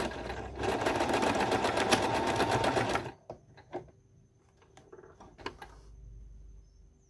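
A sewing machine stitches a straight seam along a pleat on a button-front blouse, whirring steadily and loudly for about three seconds before stopping. Afterward come quiet fabric handling, a few clicks and soft rustles.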